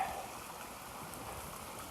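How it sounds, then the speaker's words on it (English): Steady broadband rush of a creek flowing beside a hiking trail, a continuous soft wash of running water heard close by and fairly quiet, with no voices. "just want to show you how pleasant it is to walk along a nice creek like this on a nice trail."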